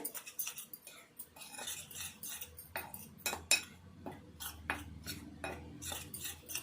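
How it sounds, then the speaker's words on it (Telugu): Flour, semolina, spices and salt are mixed together in a bowl, giving soft irregular scraping and rubbing with light clinks of a utensil against the dish, close and quiet, with no talking. "ఈ మసాలా, కారము, ఉప్పు, ఈ పిండి కూడా అన్నీ, రవ్వ అన్నీ కలిసేటట్టు కలుపుకోవాలి"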